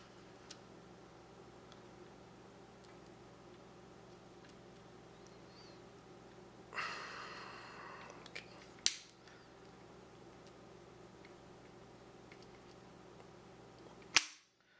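Beretta M9A1 pistol with a gauge mounted mid-trigger, its double action trigger pull ending in sharp, isolated hammer clicks near the end, a few quiet mechanical ticks and a brief rustle before them over a steady low hum.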